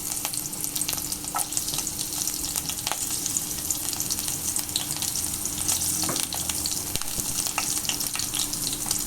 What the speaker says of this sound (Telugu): రెండు పచ్చిమిరపకాయలు చిలికలు చేసి పెట్టుకున్నాను, ఇవి కూడా వేస్తున్నాను.